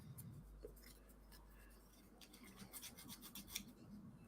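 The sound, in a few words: filing a wooden ring to remove burrs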